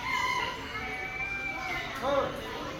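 A silver pheasant gives drawn-out, wavering calls, fairly clear over a steady background hiss, with a louder burst near the end, at a zoo.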